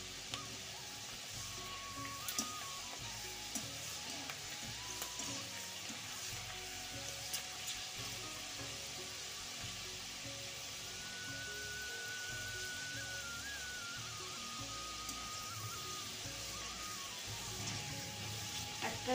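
Chana dal deep-frying in hot oil for crunchy daalmut, a steady soft sizzle and bubbling hiss that runs evenly throughout, fairly close with faint clinks of a utensil and no talking.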